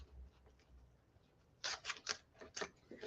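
Scissors snipping through ribbon for a floral wreath bow, a quick run of five or six close, crisp cuts after a quiet pause.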